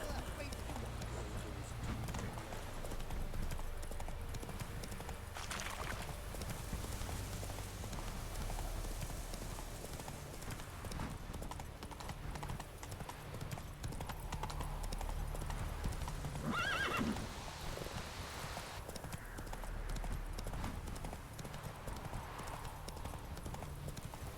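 Roach the horse from the Witcher 3 video game gallops with steady, continuous clip-clop hoofbeats and a whinny partway through, over faint rain and in-game ambience.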